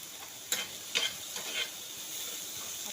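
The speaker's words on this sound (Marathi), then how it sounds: "मी आता हे खरपूस सगळं साहित्य भाजून घेते." Spices with a cinnamon stick and bay leaf roast in a pan for misal, giving a steady soft sizzle broken by a few sharp scraping stirs.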